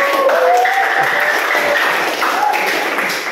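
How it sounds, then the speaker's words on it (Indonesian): Steady applause from a class group, continuous and fairly loud throughout, with voices talking over the clapping. "Tepuk tangan buat kelompok 1."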